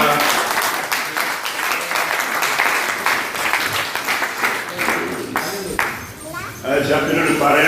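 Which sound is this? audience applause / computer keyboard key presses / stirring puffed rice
audience applause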